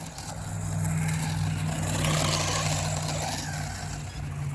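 A small electric motor of a ZD Racing ZMT10 Thunder RC truck hums and whines steadily, rising slightly in the middle, with a low buzzing drone underneath, close by and continuous.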